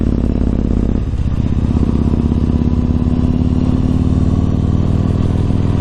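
A Yamaha MT-01 motorcycle on a commute ride, a loud steady low engine drone with constant wind rumble throughout, no speech.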